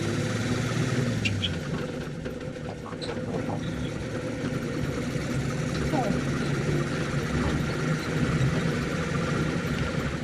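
A 1954 Chevrolet 3100 five-window pickup with a 235 engine and four-speed transmission drives along, its steady low engine and road rumble filling the cab without a break.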